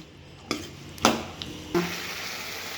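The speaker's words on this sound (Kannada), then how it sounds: "ತರಕಾರಿ ಎಲ್ಲನೂ ಎಣ್ಣೆಲಿ ಫ್ರೈ ಆಗಬೇಕು" Finely chopped vegetables dropped into hot oil for vermicelli bath, giving a few sudden sizzling bursts with clanks of a spoon against the pan, then a steady quieter frying hiss.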